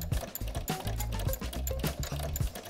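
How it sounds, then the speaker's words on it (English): A sewing machine runs a straight stitch through fabric, its needle hammering in a fast, even mechanical rhythm with a slight clunky knock, close and loud for a few seconds without talk. "and then I'm just going to start stitching"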